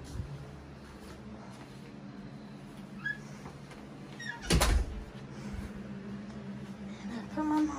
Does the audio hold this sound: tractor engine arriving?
no